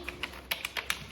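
A short run of typing on an old computer keyboard beside cathode-ray-tube PCs: several crisp, irregular key clicks, fairly quiet and close.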